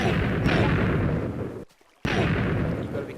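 Dense, continuous rumble of TNT explosions from a Minecraft cannon firing a 90-shot barrage in the video game, loud and sustained, breaking off into near silence for a moment before the blasts resume.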